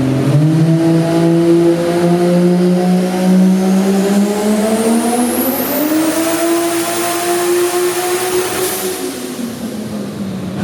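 Modified Ford FG Falcon (FGX) engine on a dyno pull at the Summernats car show, revving loudly and steadily climbing in pitch, then easing off near the end, loud and close with no talking.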